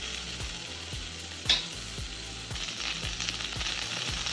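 Ghee sizzles and crackles steadily in a frying pan, close and continuous, with light scraping or stirring knocks at a regular rhythm.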